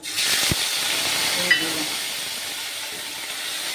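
Whole cumin, dried chilli, bay leaf and ginger sizzle in hot ghee for tempering mung dal, a steady close hiss with a brief pop near the start, continuing evenly throughout.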